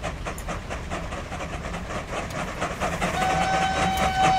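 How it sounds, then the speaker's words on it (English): A train rumbles past in Transport Fever 2, a rhythmic clatter of wagons with a rising roar and a brief whistle-like tone near the end, heard without talk. "With a train in the background as well."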